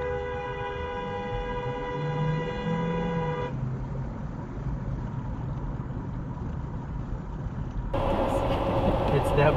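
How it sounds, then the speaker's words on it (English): Cars driving over a rain-soaked bridge: a long tonal horn-like blare, then steady road and water roar, ending in a louder broadband rush of spray. "It's that bridge when cars splash it"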